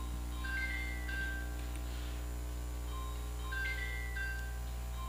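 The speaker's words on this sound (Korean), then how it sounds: "벨소리 줄여주세요." A mobile phone ringtone plays a repeating melodic pattern of short electronic notes, fairly faint over a steady low hum in a room.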